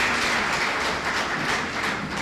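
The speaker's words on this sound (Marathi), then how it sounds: "बरोबर आहे, आपण टाळ्या वाजवून त्याचं कौतुक केलं पाहिजे." An audience claps together during a lecture on eradicating superstition, producing a thick, continuous wash of applause that stays loud from start to finish, with no voices above it.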